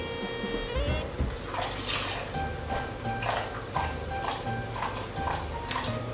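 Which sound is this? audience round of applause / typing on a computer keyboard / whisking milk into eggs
whisking milk into eggs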